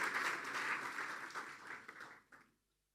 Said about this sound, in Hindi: फिर बजा दें यीशु के लिए तालियां